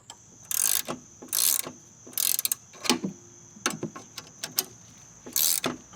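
A spring compressor clamps down on a Subaru Crosstrek rear strut spring, giving bursts of ratcheting and mechanical clicks in uneven short runs, close and fairly quiet.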